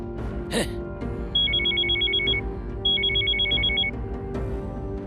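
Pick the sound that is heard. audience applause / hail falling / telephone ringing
telephone ringing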